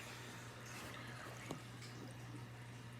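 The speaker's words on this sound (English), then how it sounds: "the water is dropping inside that pipe, and it would continue to drop." Water drains from a turtle tank down through a pipe, a soft gurgling trickle with drips and a low steady hum from the setup, one brief louder splash midway.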